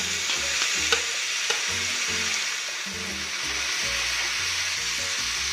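Bean sprouts and sausage are stir-fried in a pan, giving a loud continuous sizzle with irregular stirring scrapes and a couple of light knocks up close.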